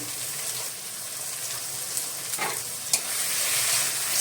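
Chili powder frying with cumin and coriander in a pan for a catla fish head curry, stirred steadily; a continuous close sizzle with soft scraping strokes and a few sharper clinks, no voices.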